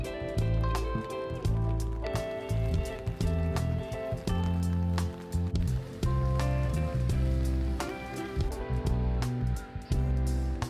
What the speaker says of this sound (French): il pleut pas mal là